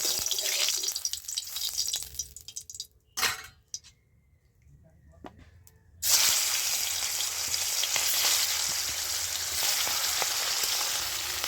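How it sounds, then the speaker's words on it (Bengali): Pangasius fish pieces fry in hot oil: a soft sizzle and a few clinks, a near-silent pause, then a sudden loud, dense crackle that holds steady to the end. "তেলটা গরম হয়ে গেছে, আমি এবার মাছ ভাজাটা তুলে দিচ্ছি"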